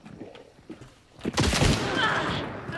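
Gunfire in the video game Hunt: Showdown: after a second of quieter game noise, a loud shot erupts and rolls into a dense, sustained roar of echoing fire and rumble that stays near and heavy to the end.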